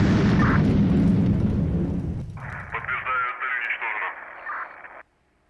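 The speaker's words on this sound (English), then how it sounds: "Let's send another missile then." Missile strike in the HighFleet video game: a heavy, rumbling blast slowly dies away, followed by crackly, radio-filtered voice chatter.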